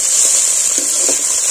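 Ginger frying in a pan of oil for a vegetarian cauliflower snack, giving a steady close sizzle with faint stirring scrapes, heard alone.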